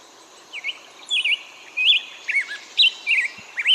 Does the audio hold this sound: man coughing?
no